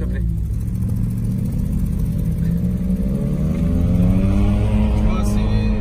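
An old classic car drives along with a steady low engine drone, its pitch slowly climbing as it gathers speed and then settling, while people talk inside over the engine.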